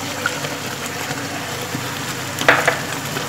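Spiced masala and yogurt fry in ghee for shahi paneer, a steady close sizzle with a few wet splutters and stirring clinks near the end.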